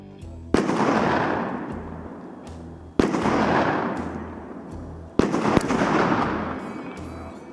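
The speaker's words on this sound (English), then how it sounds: "We're gonna go and sight some shotguns in" Shotguns fire during a sighting-in session at a turkey-hunting chapter range in New York: three loud, sharp blasts about two and a half seconds apart, each followed by a long rolling echo that fades before the next shot.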